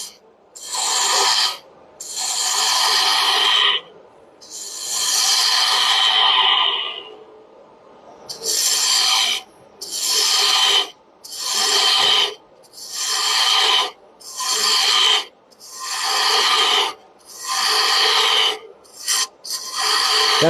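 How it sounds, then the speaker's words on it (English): Wood on a lathe being cut with a quarter-inch bowl gouge with a spindle grind, producing a series of loud, close tearing cuts, each about one to two seconds long with brief gaps between, and no talk. "we're going to switch to a 1/4 inch bowl gouge with a spindle grind on it"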